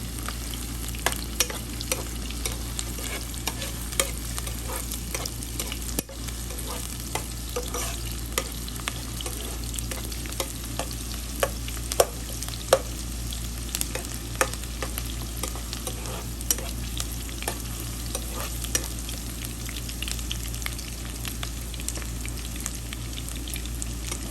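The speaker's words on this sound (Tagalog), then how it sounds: "nahalo-halo na yung ating bawang at sibuyas" Garlic and onion stir-frying in a pan for pancit canton in a home kitchen, a steady close sizzle with frequent sharp scrapes and clicks of the utensil throughout, no talking.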